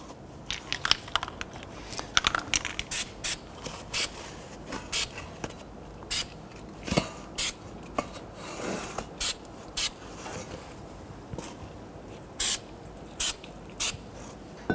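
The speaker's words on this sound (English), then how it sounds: "We're going to go ahead and put some anti-seize compound on the face of our hub." Anti-seize compound goes onto the face of a 1992-1996 Toyota Camry front wheel hub, heard as short scattered bursts of spraying, rubbing and rasping. The bursts are close and irregular, with quiet gaps between them and no talking.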